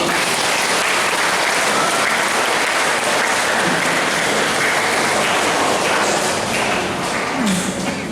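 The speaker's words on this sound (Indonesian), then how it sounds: "terima kasih tepuk tangan untuk semua" A church congregation at a Palm Sunday Mass in the parish of St Lukas, Pemalang, bursts into loud, dense applause that carries on steadily throughout without a break, with no voices heard over it.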